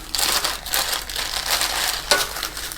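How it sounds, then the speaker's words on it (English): Plastic bags crinkle and crumple in close-up while a cable, switch, socket and hardware kit for a power supply is unpacked, with irregular bursts of rustling, one sharper crackle near the end, and no talking. "Lots of plastic bags."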